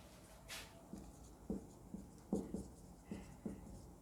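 Pen or chalk strokes tap and scratch in short, spaced bursts during an engineering lecture, faint and close in a quiet room.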